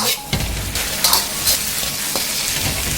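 Wood ear mushrooms tossed quickly in a hot wok, with a steady broadband sizzle and a few sharp scraping stirs of the spatula standing out, close and fairly loud, with no voices.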